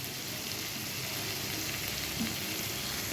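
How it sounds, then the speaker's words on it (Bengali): Pointed gourd curry frying with spices in a pan in a home kitchen, a steady, close sizzle that runs without pause, with no talk. "মশলা কষানো হয়ে গেছে, ওরা পটলগুলো ছেড়ে দিলাম।"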